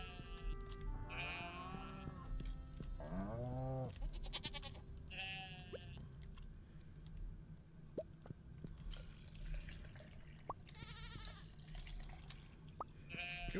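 Sheep bleat repeatedly in the PC farming game Stardew Valley 1.5, several short calls spread across the scene over soft ambient game sounds and occasional light drips.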